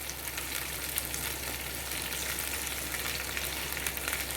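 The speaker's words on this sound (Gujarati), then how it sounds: "આપણે એમાં ધાણા એડ કરી દઈશું 2 ટેબલસ્પૂન, જીરું 1 ટેબલસ્પૂન આપણે એડ કરશું" Coriander and cumin seeds roasting in a pan for Jain chhole, giving a dense, steady sizzling crackle that runs evenly and close throughout without pauses or voices.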